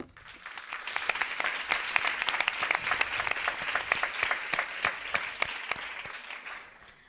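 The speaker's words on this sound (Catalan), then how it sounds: "Per això aquest arrelament a Girona i un fort aplaudiment." An audience at a round-table on leading women of Girona gives strong applause for a speaker, a steady crowd of clapping hands with crisp individual claps standing out, swelling after a second and tapering off near the end.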